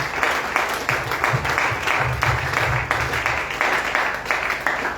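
A church congregation applauds loudly and continuously, the clapping swelling in rhythmic pulses, close and filling the room throughout.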